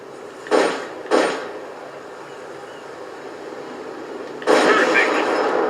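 Rifle shots from the Metal Gear Solid Peace Walker video game: two sharp bursts close together, then a longer blast, each fairly loud over steady game background noise.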